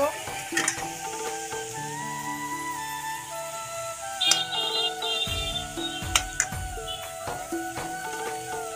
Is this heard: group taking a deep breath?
no